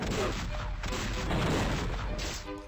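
Artillery in the Age of War video game firing in a dense, continuous barrage of booms and blasts, loud and close, with a voice talking faintly underneath.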